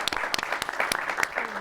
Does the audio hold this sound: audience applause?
yes